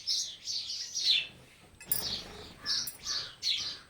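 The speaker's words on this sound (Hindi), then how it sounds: "इस समय यहाँ चिड़ियों का ही राज है" Small birds chirp around an old tiled-roof house with a courtyard, bright close tweets coming in short clustered bursts separated by brief quiet gaps.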